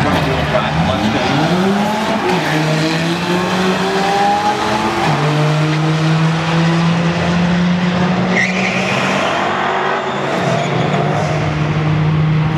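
A Dodge Caliber launches off the line at a drag strip, its engine note climbing through rising gear sweeps with tire squeal, loud and sustained over a crowd-filled track ambience.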